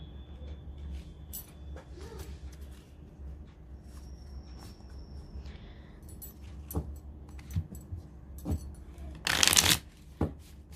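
Playing cards shuffled for a tarot-style card reading, a bright rustling burst near the end, with soft handling clicks and quiet room noise before it.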